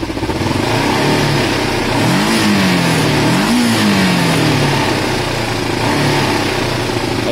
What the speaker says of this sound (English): The idle's definitely a touch high because I messed with it when I took the carb off.